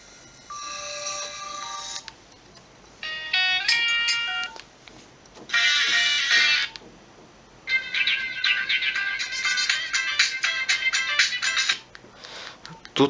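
Monophonic Nokia 100 phone ringtone melody in bright beeping bursts, several short phrases separated by pauses, loud and close.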